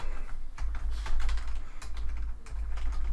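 Rapid, irregular clacking of keys as terminal commands are typed on a computer keyboard, close and steady throughout, over a low hum with no talking.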